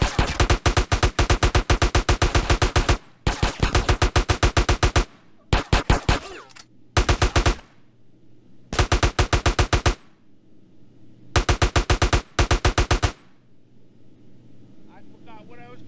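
Rapid automatic gunfire in GTA: San Andreas, loud close bursts of several seconds each separated by short gaps, with a low engine-like drone underneath in the pauses.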